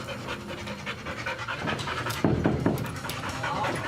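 A dog pants quickly and steadily close by, rapid breaths continuing throughout with a few sharper huffs in the middle.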